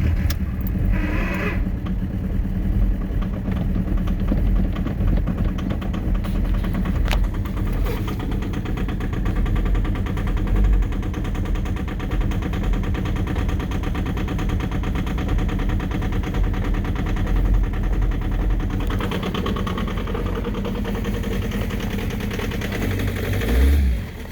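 A 2004 Volkswagen Jetta TDI diesel engine cold-starts in freezing windchill, then idles with a loud, steady, rough clatter and rumble that continues close up for the whole stretch, with no talking.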